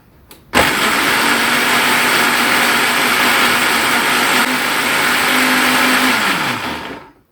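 A kitchen blender switching on abruptly and grinding garlic and ginger into a paste for curry, a loud, even motor whine that holds steady for about six seconds before spinning down to a stop, with no talking.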